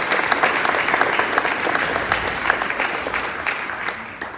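An audience at a school board meeting claps steadily and loudly throughout, a dense, close round of applause with no break.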